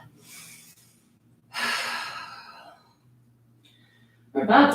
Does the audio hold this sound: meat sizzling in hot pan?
no